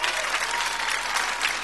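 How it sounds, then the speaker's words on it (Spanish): A studio audience on a TV show applauds loudly and continuously, a dense, even roar of many clapping hands. "quiero que le demos un tremendo aplauso acá a toda la familia que está en pleno acompañándonos."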